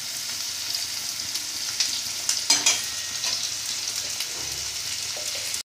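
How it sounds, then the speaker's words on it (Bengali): Cut aubergine and potato fry in a hot pan, a steady sizzle with a few sharper crackles and scrapes of stirring midway, no voices. "এরপরে বেগুন আর আলু কেটে রাখা আছে সেটা দিয়ে দেবো"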